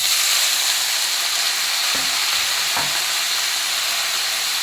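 Chopped banana flower frying in a pan with curry leaves, a steady dense sizzle and hiss running throughout, with two brief soft stirring knocks partway through and no talking.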